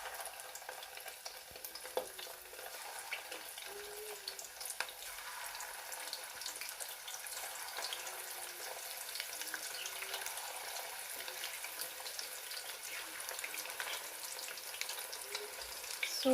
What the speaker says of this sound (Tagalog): we'll just deep fry it until it's light brown